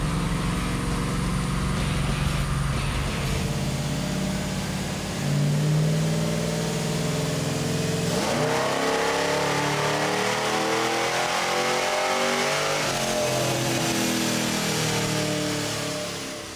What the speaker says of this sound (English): So we'll slowly run it through the RPMs to let the computer learn.